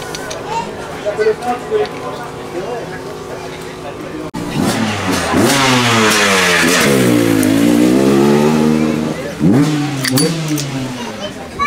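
A 500 cc motorcycle engine with a rich-running carburettor at the ISDE 2022 enduro revs up hard nearby, its pitch sweeping up and down in repeated throttle blips, with faint voices before it starts.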